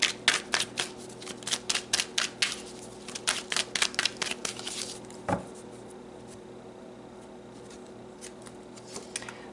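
Tarot cards are shuffled and drawn, giving a rapid burst of crisp riffling flicks over several seconds, then a single soft slap and a few scattered card sounds.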